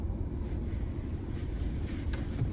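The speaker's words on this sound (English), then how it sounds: "It's so windy out here, and it has been lately." Steady wind buffeting outdoors, a constant low roar rumbling across the whole stretch with no voices.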